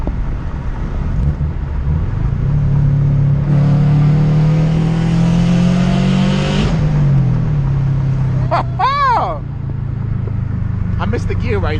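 Subaru WRX STI with about 380 wheel horsepower revving on a night drive, its engine note rising then dropping sharply at a gear change, loud and close, with brief chirping sounds near the end.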